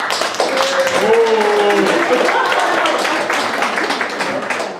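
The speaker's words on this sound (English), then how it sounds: "let's give applause to old Santa Claus" Steady crowd applause greets Santa Claus at a comedy roast, a dense wash of clapping that runs the whole stretch at a fairly loud, even level, with a few brief tonal sounds over it.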